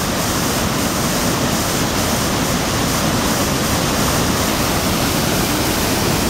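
Union Creek's river current rushes through a narrow rock chasm, a dense, steady roar of churning water that stays loud and unbroken throughout.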